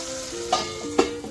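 Mushroom fry being stirred in a pan, with a low frying sizzle under two distinct scrapes of the spoon against the pan.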